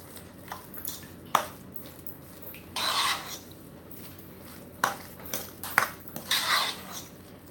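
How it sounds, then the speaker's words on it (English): A fork mixes and scrapes warm potato salad against a bowl, making a series of irregular clinks and soft squishy stirring strokes, some sharp taps standing out over quiet moments. "Use a fork. The fork kind of keeps it fluff."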